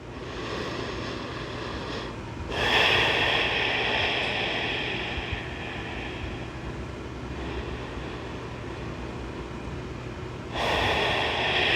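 Slow, audible breaths during a rest in a back-strength yoga session: long, airy inhales and exhales with a couple of louder, sharper breaths standing out against a steady low background.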